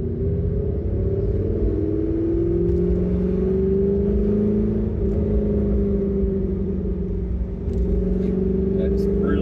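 A Corvette Z06 fitted with long tube headers, high flow cats and a Billy Boat exhaust rumbles steadily up close, its deep engine note holding through the whole stretch with slight swells and no break.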